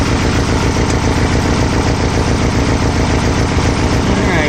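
A Volkswagen Type 3 engine with dual carburetors idles at a slightly raised speed: a close, loud, steady stream of rapid low-pitched firing pulses that stays even throughout.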